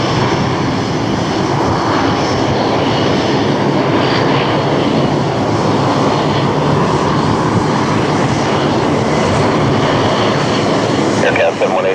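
A Royal Jordanian Boeing 787-8 Dreamliner takes off at Toronto Pearson International Airport, giving a loud, constant jet engine roar throughout. Radio talk from air traffic control plays over the roar.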